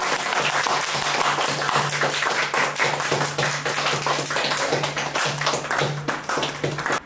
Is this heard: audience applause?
yes